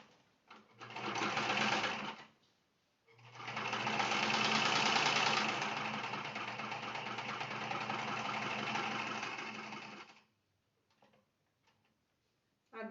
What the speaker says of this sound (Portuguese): Vou passar uma costura em toda a volta, deixando uma aberturinha pra gente desvirar a peça depois.